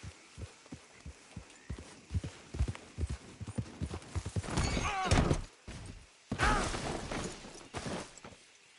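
A video game horse trots with steady clip-clopping hooves, then lets out two loud, drawn-out whinnies close up, and the hoofbeats carry on between and after the calls.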